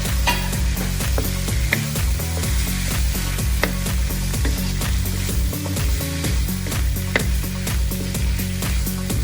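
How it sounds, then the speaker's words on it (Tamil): Pepper and green onion sauté in a pan for spicy chicken and shrimp noodles, a steady sizzle broken by repeated scraping and stirring knocks of a utensil, close and alone. "பெப்பர் ஒரு 1 மினிட் போட்டு நான் வதக்கினேன்"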